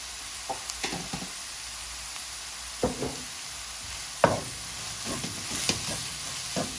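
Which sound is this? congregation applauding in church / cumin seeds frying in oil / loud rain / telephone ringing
cumin seeds frying in oil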